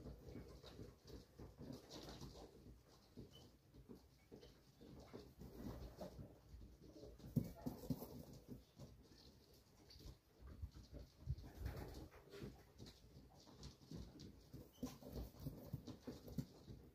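Homing racing pigeons come in to the loft on race day after a 75-mile race from Sleaford, a soft, steady bustle of wings and faint cooing with scattered patter over quiet outdoor background, with no voices.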